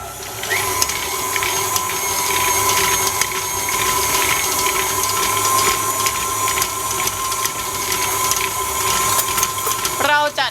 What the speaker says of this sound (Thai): เราก็จะ ตี ต่อด้วยสปีดกลางนะคะ